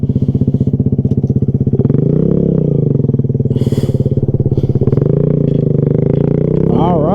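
A Kawasaki Z125 Pro motorcycle fires up and settles into a loud, obnoxious exhaust note. The idle is rumbly and close, with a brief rev near the end, and it carries on alone without talk over it.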